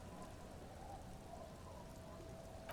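Steady, soft rain streams down in the video game Disco Elysium, an even, continuous hiss with no voices, faint and constant throughout.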